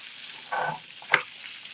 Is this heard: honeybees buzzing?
no